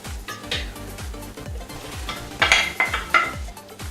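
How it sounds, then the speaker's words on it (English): Raw mince being stirred in a pan with onion and garlic for chilli con carne: a spoon scrapes and knocks against the pan in a quick repeated rhythm over a soft sizzle, with a few sharper metallic clinks near the end. "So we'll give the mince a little stir so it's mixed up with the onion and garlic nicely"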